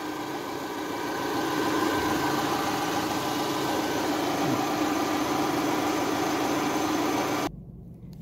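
A Subaru Outback engine idles with a steady, even hum and broadband hiss, close and constant for about seven seconds before cutting to a quieter background near the end.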